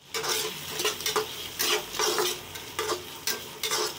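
Rice and masala sautéed in a pan for Madurai-style tomato rice, with rhythmic loud scraping spatula strokes about every half second over a low sizzle, no voices.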